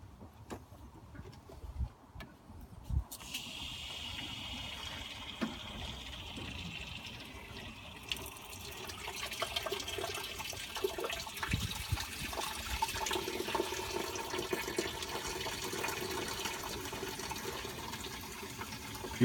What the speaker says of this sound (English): I'm going to flush the radiator with the hose